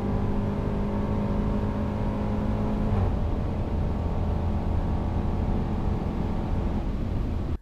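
A 2018 Range Rover engine pulls hard at full throttle, a loud steady drone rising through the rev range with a brief shift near the middle, then carrying on strongly.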